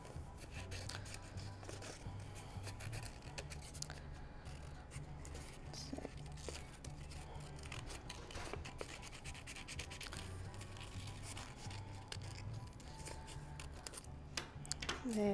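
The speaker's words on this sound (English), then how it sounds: "So we'll cut those out." Scissors cutting ear shapes out of a paper plate, a continuous close rustle and scraping of paper with repeated snips, over a low steady hum.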